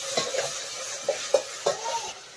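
Chopped tomatoes frying in a hot pan, a close crackling sizzle broken by a few sharp stirring scrapes.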